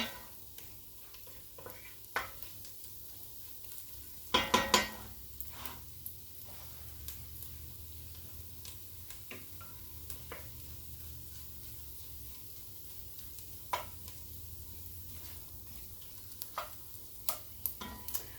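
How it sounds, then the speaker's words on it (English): Garlic, onions and tomato paste sizzle softly in a home cooking pan, a low steady crackle punctuated by scattered clicks and one louder clatter of a utensil stirring. "The garlic and the onions cooking together and the tomato paste in here."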